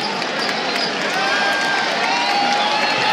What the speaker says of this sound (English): gets a rounding, rousing round of applause from the Mountaineer faithful